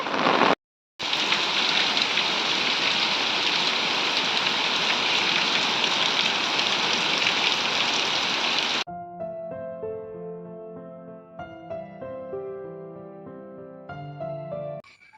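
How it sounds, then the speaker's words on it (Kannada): Heavy rain pours in a dense, steady hiss for about nine seconds after a brief dropout, then cuts abruptly to music. "ಜೋರು ಮಳೆ ಪಕ್ಕ ನೋಡ"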